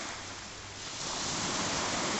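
Sea waves washing onto the shore at Varna on the Black Sea: a steady broadband rushing surf that swells slightly louder toward the end, continuous and without speech.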